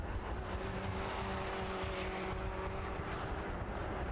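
Race cars lapping the Brands Hatch Indy circuit in a 750 Motor Club event, a distant, faint engine roar washing steadily across the track with broadband rumble and no voices.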